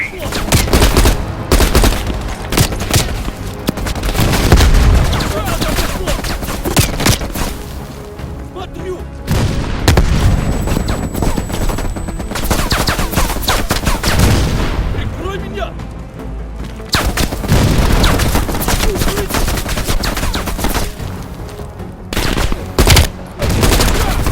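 Dense gunfire from a Call of Duty Black Ops Cold War battle, with a mounted machine gun hammering alongside booms and scattered shots, loud and nearly continuous with brief lulls, while voices call out over the fighting.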